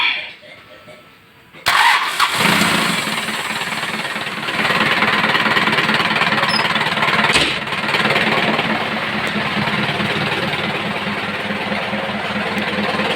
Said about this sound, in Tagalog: So papaandarin na natin ngayon.